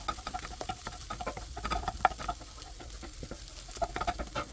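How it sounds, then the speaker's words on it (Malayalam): A spoon stirs spice powders into egg burji in a pan on low flame, giving soft irregular scraping taps over a faint sizzle, close and quiet, with no talking. "എന്നിട്ട് നമ്മൾ നന്നായി എല്ലായിടത്തും യോജിപ്പിച്ചെടുക്കാൻ വേണ്ടിയിട്ട് ഇളക്കി കൊടുക്കുക"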